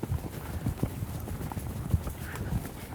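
A horse's hooves strike the ground in a steady rhythmic clip-clop while it trots and lopes during a horsemanship session, moderately close and fairly quiet.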